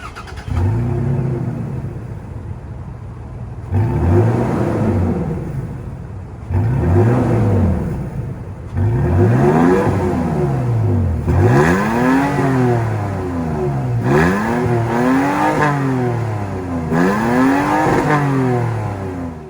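A 2022 Toyota Tacoma TRD Sport's 3.5-liter V6 engine starts and revs repeatedly, each rev rising and falling, growing louder and more frequent toward the end.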